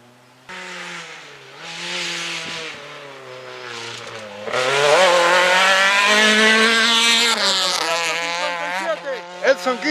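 A Super 1600 rally car on a gravel rally stage near Cerro Azul, Quilmana, its engine droning in from a distance, then loudly revving and shifting as it passes close, with sharp pops as it pulls away.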